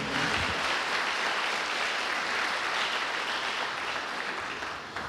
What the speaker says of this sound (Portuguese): Dê um aplauso forte a Ele.